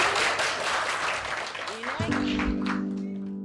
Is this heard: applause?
yes